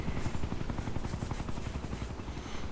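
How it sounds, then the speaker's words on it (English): A helicopter hovers overhead in the Ghost Recon: Future Soldier game, Raven Strike DLC, as a steady low rotor throb with rapid chopping pulses, continuous and fairly quiet, with no talking. "Even if the chopper's right over you,"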